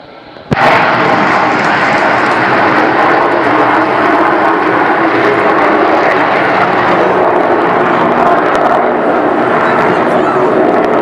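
Avro Vulcan XH558 bomber with landing gear down passing over an air show, a loud sustained jet roar that fills the whole stretch with a steady, broad rumble, with voices faintly underneath.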